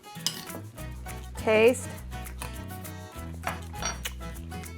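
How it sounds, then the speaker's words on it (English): Seasoned garbanzo beans tossed in a bowl make a clattering, rattling scrape as a utensil knocks around the dish, with one louder burst of clinking in the middle and a brief spoken word. "I just sprinkle it over the garbanzo beans, mix it, mix, mix, mix"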